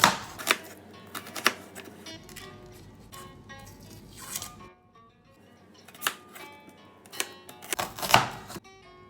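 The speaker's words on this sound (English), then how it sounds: "Two large onions cut in half and then cut into 1/8 of an inch slices." A kitchen knife slices halved onions into thin pieces for a Spanish tortilla, giving crisp chopping clicks in short uneven bursts on a board, close and fairly quiet.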